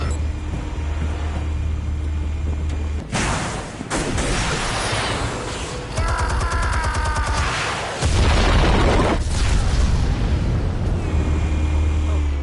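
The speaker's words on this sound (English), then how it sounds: "Explosives armed. Fire when ready." Explosions in a Batman video game: loud booming blasts with rumbling tails, one partway through and another later, over continuous game background noise while someone talks.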